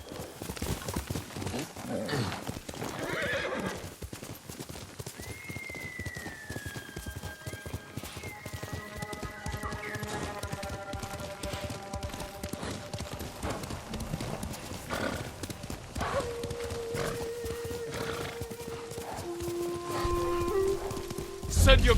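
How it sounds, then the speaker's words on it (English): Horse neighing and galloping hooves in Ghost of Tsushima, a steady clip-clop of hooves running throughout with a clear whinny partway through, set against game ambience and voices. "Horse!"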